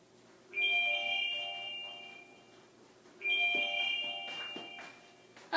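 A phone rings through its find-my-phone alert in a home kitchen with a bright electronic tone. Two ringing bursts come about three seconds apart, each fading out, with faint knocks of movement and no talk.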